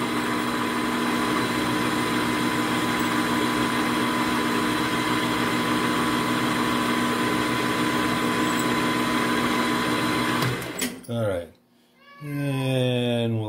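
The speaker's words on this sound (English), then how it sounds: "Haven't had the lathe running, so let's kick her into low gear here." A metal lathe running in low gear gives a steady, loud mechanical drone with a constant whine for about ten seconds. It then winds down, and someone speaks briefly.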